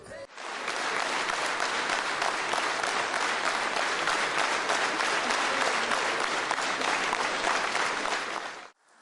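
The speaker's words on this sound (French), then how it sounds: "Des applaudissements à non plus finir" Sustained, enthusiastic applause from a large crowd in Madagascar, loud and continuous for several seconds before cutting off abruptly.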